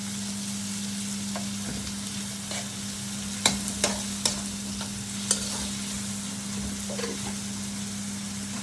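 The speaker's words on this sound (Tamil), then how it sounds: "இப்போ நாங்கள் அந்த கருவா, ஏலக்காய் நான் எடுத்து வச்ச எல்லாத்தையும் இப்போ நான் சேர்க்கிறேன்" Whole cinnamon and cardamom frying in a pan for Sri Lankan-style pasta, a steady low sizzle with a constant hum underneath and a few sharp clicks of stirring or spices hitting the pan.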